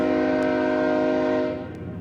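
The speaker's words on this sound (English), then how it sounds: "Is that a different train or the same one?" Train horn blaring loud and sustained as a train passes, a rich chord of steady harmonic tones that cuts off after about a second and a half, leaving a rumbling tail.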